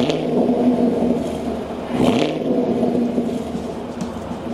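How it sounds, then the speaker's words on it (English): A 2022 Chevy Camaro with its 6.2-liter V8 and dual-mode exhaust idles in a steady, loud, deep rumble, swelling briefly in a short rev partway through. "equipped with a dual-mode exhaust engineered to idle with a roar without overwhelming the neighbors"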